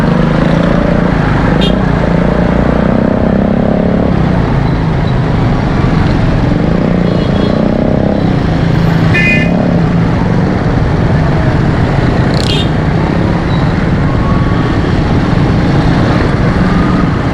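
Slow traffic, including motorcycles, moves along a wet, potholed road after rain, making a loud, continuous rumble of engines and tires. A few short horn-like tones break through the noise.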